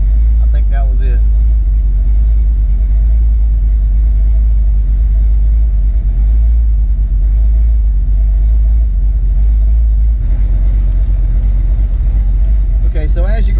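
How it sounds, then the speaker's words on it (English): A Ford Foxbody car engine idles steadily after a base idle reset, a constant low rumble throughout with a brief change in tone near the end. "now the car is idling as it should"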